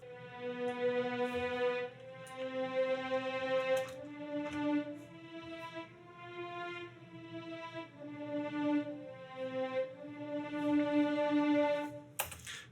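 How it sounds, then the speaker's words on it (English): Unprocessed violin recording, dry and straight out of the box, playing a slow melodic line of sustained bowed notes with some faint clicks, moderately quiet and with no voices. "Now, this is the sound of the violin before I've done any EQing."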